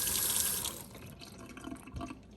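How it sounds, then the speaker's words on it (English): Running tap water splashes steadily over peppers being washed in a sink, loudest at first and then easing into softer trickles and drips, close by with no talking. "first I'm going to wash these and get them nice and clean"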